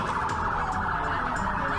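An ambulance siren wails steadily at the scene of a fatal crash where a truck hit an electric pole in Bekasi, a loud continuous oscillating tone over traffic noise, with no talk.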